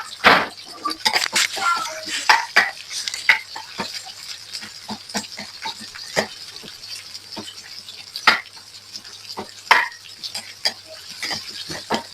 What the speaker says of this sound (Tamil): அதோட வெங்காயம் வெள்ளைப்புடையும் சேர்த்து நல்லா கிளறி வதங்க விட்டு கொள்ளுவோம்